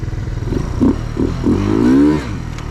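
Motorbike ridden across an empty lot near an abandoned factory, engine revving up and down in short pulses before a rising rev, close and fairly loud with no talk over it.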